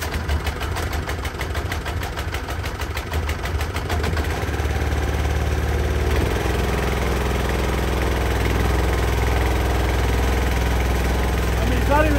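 A small engine driving a water pump for a rainwater harvesting setup idles steadily nearby, with a rapid, uneven chugging that smooths into a constant low hum partway through.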